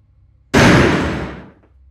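A door in a horror story about clowns bursts open in one loud sudden bang, then a harsh rushing noise that fades over about a second, alone over near silence.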